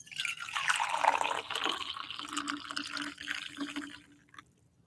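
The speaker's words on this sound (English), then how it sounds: "The sound of pouring coffee." Coffee poured right beside the microphone, a close, loud trickling and splashing stream of liquid that swells and then tapers off into near silence.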